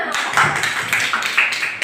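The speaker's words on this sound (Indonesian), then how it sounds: "Oke, tepuk tangan kita semua." A high school class of students in Indonesia clapping together during a microteaching lesson, dense close hand claps continuing steadily throughout.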